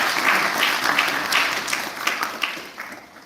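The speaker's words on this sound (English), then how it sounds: "let's give them a big round of applause" An audience at a public lecture and book launch claps in a short, moderately loud round, individual claps standing out within the steady patter before it thins out.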